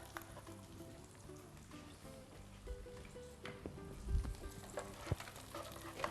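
A spoonful of butter melts in a hot pan with a steady, close sizzle and crackle, with a few louder spits and pops near the end.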